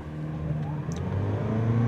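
A 2023 Toyota Prius Limited hybrid launches from brake torque, its engine droning and rising steadily in pitch with a whirring motor tone, heard from inside the cabin.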